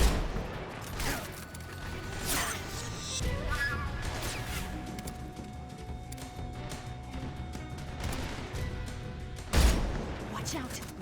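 Scattered gunshots ring out in the Metal Gear Solid 3 remake video game, sporadic sharp cracks over ambient game sound with a louder hit near the end, while people talk throughout.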